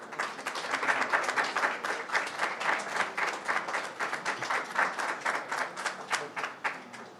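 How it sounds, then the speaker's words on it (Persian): An audience at a foundation cooperation agreement signing ceremony claps together in a dense, steady round of applause, many hands clearly audible with a lively pulsing rhythm and no talk over it. "خواهشمندم با ترنم دستان پرمهرتون بار دیگر دوستان رو تشویق بفرمایید"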